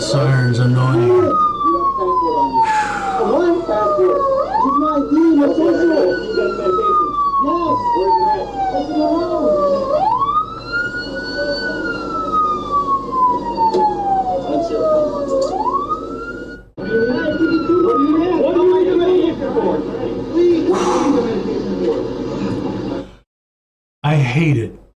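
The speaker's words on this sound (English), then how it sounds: "Wow, that siren's annoying." A loud police siren wails continuously at an arrest scene, its rising and falling sweeps repeating every few seconds, with voices and background noise underneath.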